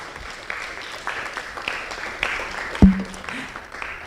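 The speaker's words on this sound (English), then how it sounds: "With a round of applause, let us welcome Prof." A lecture audience applauds to welcome a professor at a university public lecture, a thin, moderate clapping with a sharp thump partway through and voices murmuring underneath.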